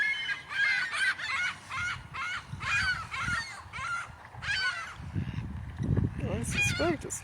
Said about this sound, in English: Ducks are coming back.